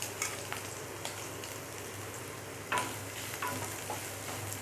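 Carrots for vegetable spring rolls frying in a pan, a soft steady sizzle with occasional sharper crackles and spits, fairly quiet, with no voices.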